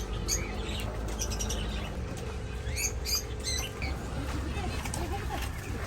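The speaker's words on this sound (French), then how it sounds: "Ils vendent des perroquets." Chirps and squeaky calls from parrots for sale at a Bulgarian market stall, bright bursts scattered through steady crowd murmur and background chatter.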